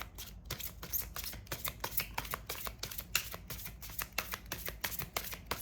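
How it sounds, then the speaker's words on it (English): Cards being shuffled up close, a rapid series of crisp riffling bursts and soft slaps repeating steadily, with no voices. "I'll hold them up so we can see them being shuffled."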